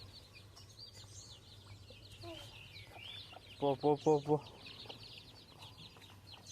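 Chickens and guinea fowl cluck in a short burst of about five loud, rhythmic calls while being herded inside, over a low steady background hum, with a person calling out to the birds.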